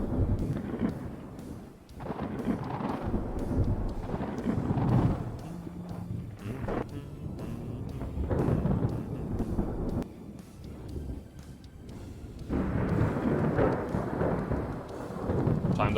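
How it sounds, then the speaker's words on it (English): Loud, rolling thunder from a naval battle in the warship video game Ultimate Admiral Dreadnoughts, rumbling continuously in heavy waves with wind and sea noise. "The thunder is very loud, I have to say."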